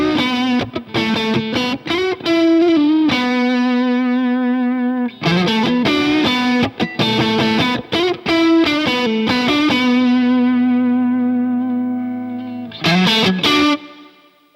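Electric guitar run through a Tube Screamer overdrive pedal, loud and driven, with choppy strummed chords and short bursts broken by sustained ringing notes that slowly fade, then a final burst of chords.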